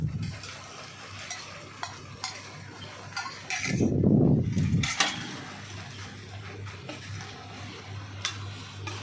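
Chili paste being stir-fried with coconut milk for a rib-eye beef curry, with a utensil scraping and clinking against the pan over a soft sizzle, plus a louder burst of bubbling and frying midway.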